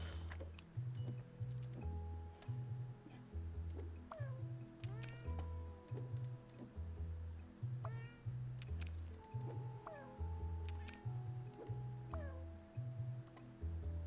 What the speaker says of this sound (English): Did you know that Sebi can meow in 10 different cat languages?